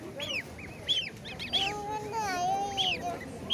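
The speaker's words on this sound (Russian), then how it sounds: "Помнишь, мы видели больших гусей, а это маленькие." Young geese in a box give several short, high peeping honks in quick bursts, close by, with a person's voice murmuring softly in the background.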